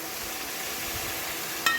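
Masala and cooked beef stirred and sautéed over a low flame in a Kerala-style beef curry pan, a soft continuous sizzle with a brief clink of the spoon at the end.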